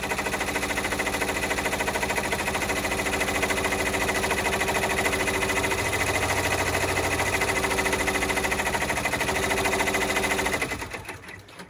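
A sewing machine runs at 900 stitches per minute, a steady fast mechanical hum and rattle held close for about ten seconds before winding down and stopping, with no talking.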